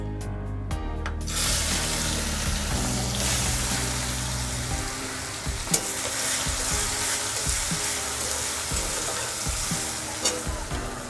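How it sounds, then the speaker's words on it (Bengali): Chopped onion hisses and sizzles steadily in hot oil already fragrant with green cardamom, bay leaf and cinnamon for an egg curry. The frying is loud and close, with occasional scraping stirs. "পেঁয়াজটা ভালো করে ভেজে নিব"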